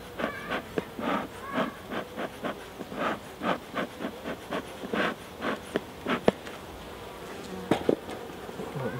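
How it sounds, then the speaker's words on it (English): Bees in a hive during an inspection buzz steadily in a dense hum, with pulsing bursts of louder droning and occasional sharp knocks, close up and without talk. "there's quite a few bees in here,"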